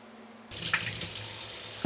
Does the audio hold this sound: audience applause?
no